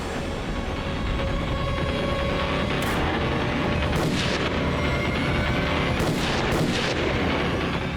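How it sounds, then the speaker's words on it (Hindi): Gunfire during a police standoff in a crime drama scene: several sharp cracks, about four or five, punch through a dense, loud rumbling background of noise and commotion, spaced irregularly across the clip. "गोली क्यों चला रहे साले?"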